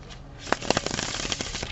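A Rebel Deck of playing cards being shuffled, a quick riffle of rapid flicking clicks lasting about a second, close and moderately loud, with no speech.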